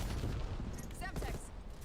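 A Semtex grenade blast and rapid gunfire in a shooter video game, a dense burst of shots and a low boom heard under a person talking over the game.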